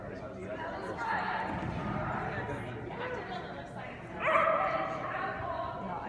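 At a dog show, several dogs yip and bark amid a noisy crowd, with people chatting close by over a steady background murmur.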